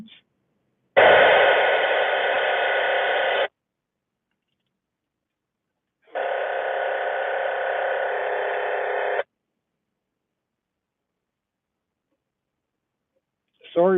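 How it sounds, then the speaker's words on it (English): Bursts of emergency-band radio static hiss loudly in two long blocks of a few seconds each, separated by silence, at a mountain lake at sunset. "Sorry about the radio noise,"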